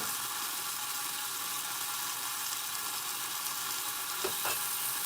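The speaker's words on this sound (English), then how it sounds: "What do you think of frying in sesame oil?" Food sizzles in hot oil in a home kitchen, a steady, fairly quiet crackling hiss with no voices, broken near the end by a couple of brief clicks.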